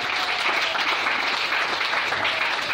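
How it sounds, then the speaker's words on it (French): A church congregation applauding the Lord, steady dense clapping throughout, fairly loud and without pauses. "Est-ce qu'on peut acclamer le Seigneur?"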